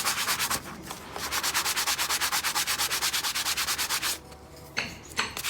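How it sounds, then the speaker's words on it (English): A spalted wood coaster with several uneven coats of shellac is sanded with 220-grit paper in fast, steady back-and-forth rasping strokes, close and clear, pausing briefly near the end before a few final strokes. "So now we want to sand. I think this is a 220."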